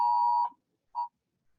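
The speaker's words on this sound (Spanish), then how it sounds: "Aquí están sonando las alarmas de los incendios" A fire alarm gives a sustained electronic beep tone, then a shorter second beep after a pause, clear and alone against silence.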